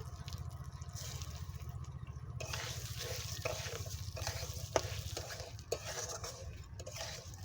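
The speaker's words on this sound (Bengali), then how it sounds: "এবার এতে গোবিন্দভোগ চালটা দিয়ে নেড়ে নেব।" Gobindobhog rice is stirred in a hot pan over a tempering of bay leaf, whole dried red chillies and cumin, giving a steady close sizzle with scraping spoon strokes and a few sharp clinks. No one speaks.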